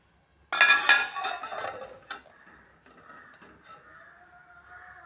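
A lid set onto a pan of chopped yam cooking on the stove, one sharp metallic clatter with ringing that fades, a second lighter clink, then a soft sizzling hum.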